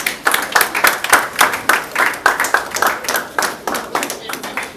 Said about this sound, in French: Acclamons l'officier.